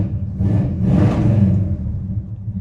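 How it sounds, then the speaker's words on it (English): A restored 1967 Plymouth Satellite 400 V8 with a four-speed and custom exhaust rumbles through a short, deep rev that swells and then settles back toward idle, loud and close, with no talk. "Great sounding exhaust."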